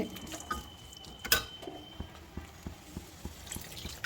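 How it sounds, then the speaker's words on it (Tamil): Water is poured into a spicy South Indian crab masala gravy, giving faint scattered drips and small splashes with a few sharper splats, close by and without speech. "தேவையான அளவு தண்ணி ஊற்றணும்"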